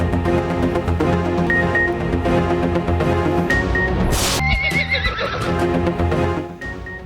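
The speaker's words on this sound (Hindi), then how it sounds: "पेशावर में आला नस्ल के घोड़ों की मंडी" Several horses neigh and whinny, loud and close, over a busy crowd-noise bed at an open-air roadside market for high-breed horses in Peshawar, with other calls sounding from nearby.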